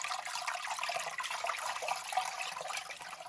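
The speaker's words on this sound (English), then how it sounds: "I'm going to use a reusable coffee filter to strain it." Seawater poured through a reusable coffee filter, a steady trickling, splashing flow of liquid with no voices.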